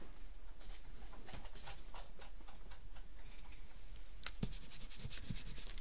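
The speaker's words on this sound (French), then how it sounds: "je vais pouvoir venir gommer" Rubber eraser scrubbing away pencil guide marks on paper, a steady close rasping rub in quick back-and-forth strokes with light ticks, heard alone.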